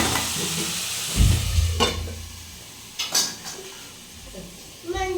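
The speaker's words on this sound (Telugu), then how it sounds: "ఉల్లిపాయ ముక్కలు మగ్గడం కోసం కొంచెం సాల్ట్ వేసుకుని మగ్గించుకుందామండి బాగా మగ్గుతాయి" Sliced onions cooking with salt in a pan, a soft sizzle under scattered scrapes and clanks of a spatula stirring against the metal, with a few louder stirring bursts.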